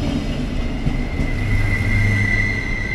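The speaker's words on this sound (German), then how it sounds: "da vorne kommt der Zug" A train pulls into a station with steady rolling rumble and a sustained high wheel squeal, loud and continuous throughout, no voices.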